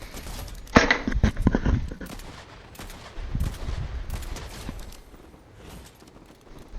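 Bursts of gunfire from other players in a competitive ranked shooter, a loud volley early on followed by scattered, more distant shots, with no talk.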